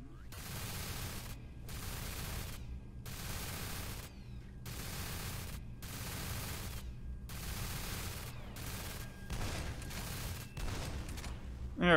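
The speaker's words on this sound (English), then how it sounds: "Oh, that's a turret." A turret in the video game F.E.A.R. Perseus Mandate fires long, steady bursts of automatic gunfire, dense and continuous with short gaps between volleys, under constant background game noise.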